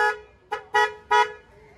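A Maruti Celerio car horn honks four times in short, uneven bursts, close and clear with nothing else audible.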